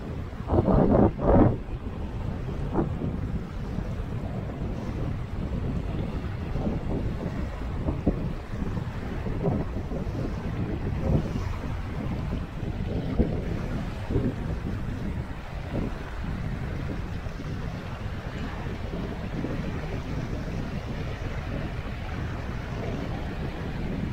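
Wind gusts buffet the microphone over steady surf at the far end of the beach at El Cuyo, Mexico, with a loud rushing roar continuing throughout and no voices.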